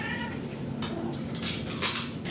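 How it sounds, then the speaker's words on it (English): A female house cat meows indoors, a few short close cries rising over steady background noise, eager for low-calorie treats. "As you can tell by her meowing."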